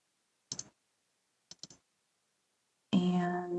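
A computer mouse clicks a few times at close range, first a double click and then a quick triple click in a quiet room, before a louder sound begins near the end.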